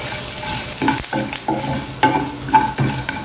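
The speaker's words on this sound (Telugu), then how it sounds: "ఇలా కొంచెం కరివేపాకు వేసేయండి." Curry leaves dropped into hot oil with turmeric and cumin over a low flame crackle and sizzle loudly, with repeated stirring scrapes of a spoon against the pan.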